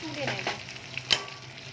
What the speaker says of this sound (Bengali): প্রথমে ফুলকপিটা ভেজে নিই, তারপরে আলুটা ভাজবো।